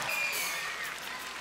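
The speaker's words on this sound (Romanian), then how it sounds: "Aplauze pentru Pavel Bartoș" Concert crowd applauding in a large hall, a brief steady wash of clapping and cheering heard at moderate level, slightly distant.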